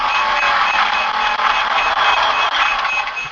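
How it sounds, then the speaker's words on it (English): A continuous electronic alarm of reversing-style beeps sounds loud and close, a steady high-pitched tone running unbroken for several seconds with no voices over it. "Oh, that's the Van Damme alarm."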